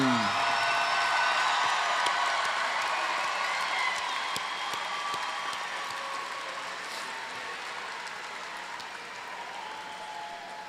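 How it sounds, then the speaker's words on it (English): Commencement crowd at Thomas Nelson Community College applauding the graduating class of 2019, a dense, sustained wash of clapping with faint whoops that slowly tapers in loudness over several seconds. "One more round of applause for the class of 2019."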